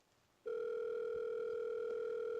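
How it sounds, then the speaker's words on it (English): A telephone rings in the video game The Letter, a steady electronic tone that starts suddenly after a brief quiet moment and holds loud and unbroken to the end. "The phone rings for a good minute before someone answers."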